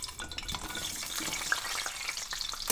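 Eggplant pieces hit hot oil in a wok, giving a steady, close, busy sizzle with crackling spatter that continues throughout, with no voices.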